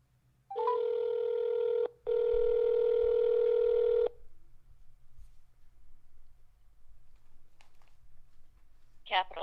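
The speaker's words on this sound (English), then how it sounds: "So I'm going to type in 202-224-3121." A landline-style phone dials a number for a call to a Washington, D.C. office: a steady tone for about two seconds, a short gap, then two more seconds of tone, and faint room noise follows.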